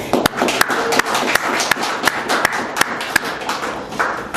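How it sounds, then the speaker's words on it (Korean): Applause at a consulting industry merit awards ceremony in Korea, a steady wash of clapping from an audience with sharper individual claps standing out throughout. "박수로 이렇게 좀 환영해 주십시오"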